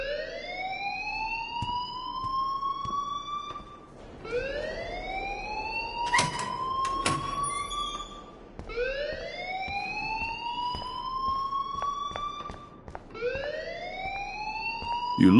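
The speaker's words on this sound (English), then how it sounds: "please turn off that alarm since that's your job" A fire alarm wails in the video game Life is Strange, sweeping upward in four loud repeated cycles, with sharp clicks and bangs between cycles.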